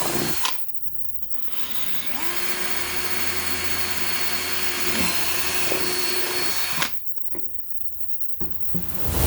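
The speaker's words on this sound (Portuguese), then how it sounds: "Utilizando uma furadeira, fiz os furos para a passagem do cabo e a fixação do bocal no pote de conserva." An electric drill whines steadily while boring holes through the metal lid of a preserve jar, close and loud for several seconds, with brief rattling handling noises at the start and end.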